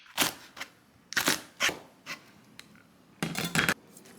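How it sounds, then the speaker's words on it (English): A knife slices cabbage and pepper into small pieces for bibimbap, close crisp chopping strokes in short irregular bursts with quiet gaps between them. "So here I am cutting up cabbage in very small slices"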